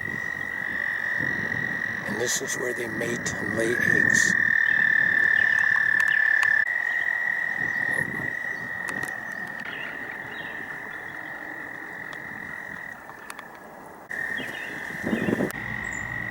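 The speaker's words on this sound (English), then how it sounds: "Every year, around mid-May, the toads come from all over the woods here." Toads calling together at a woodland breeding pond in mid-May, a steady high trilling chorus running throughout at close range, with someone speaking briefly over it.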